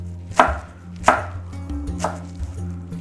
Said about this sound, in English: Then I can use my knuckle on my knife and just give this a rough chop.